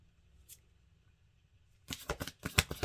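Near silence, then a run of quick, crisp card shuffles riffling close by, several brisk bursts in a row near the end.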